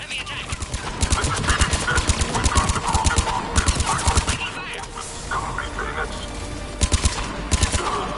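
Heavy gunfire during an attack in Mass Effect 3, repeated loud bursts of automatic fire in clusters across the scene, close and intense, with voices talking underneath.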